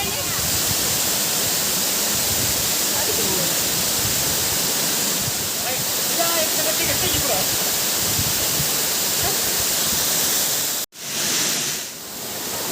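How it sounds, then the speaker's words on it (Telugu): Steady, loud roar of a forest waterfall in Andhra Pradesh, India, rushing down, continuous broadband noise with a voice faintly underneath, briefly cutting out near the end. "చూడండి ఇలా వెళ్ళిపోతుంది వాటర్ ఇలా కిందికి వెళ్తుంది"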